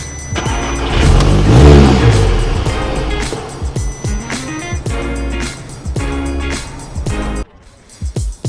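A 2015 Audi A3 race-car project engine revs repeatedly up close, its sharp throttle blips rising and dropping in quick bursts before cutting off, then a few more short revs.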